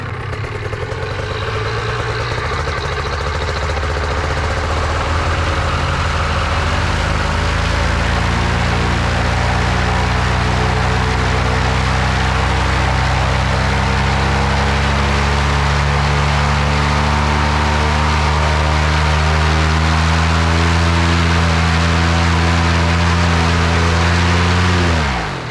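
A Polini Thor 202 paramotor engine idles steadily at about 2,000 rpm, loud and close, with a constant low droning hum and stacked harmonics holding for the full stretch, its pitch settling slightly lower after the first few seconds.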